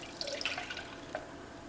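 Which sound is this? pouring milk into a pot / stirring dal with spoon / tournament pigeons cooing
pouring milk into a pot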